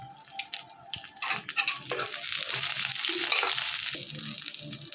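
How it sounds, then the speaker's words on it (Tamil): Onions for a tomato chutney sautéing in a hot pan, a steady close sizzle and crackle of frying with occasional stirring scrapes, continuous throughout. "வெங்காயத்தை நல்லா வதக்கிக்கலாம்"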